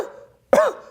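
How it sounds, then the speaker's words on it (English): A single sharp cough bursts out after a brief hush, close and loud. "a recurring cough"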